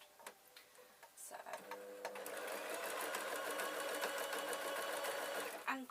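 A domestic sewing machine stitches a sunhat, starting with a few clicks and then settling into a steady, rapid mechanical chatter close by, with a person talking over it.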